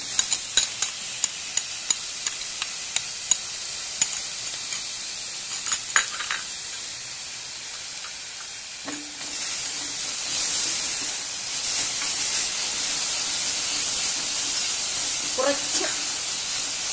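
Grated beetroot added to cumin in a hot pan on a Kerala-style stovetop, with clicks and clatter early on, then a steady, moderate sizzle from about nine seconds as the vegetables hit the oil.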